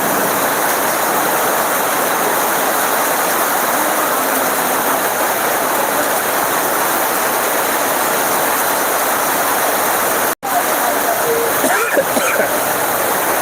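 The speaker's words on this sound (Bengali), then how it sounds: "কি পরিমাণ ঝড় বৃষ্টি, প্রচুর ঝড় বৃষ্টি।" Heavy rain and stormy wind during a sudden storm in Sylhet, a steady dense roar of downpour that holds for the whole stretch, with a brief dropout near the end.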